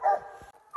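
A couple of short hunting dog barks at a raccoon up a tree at night, moderately distant, with a brief pause between them and no talking.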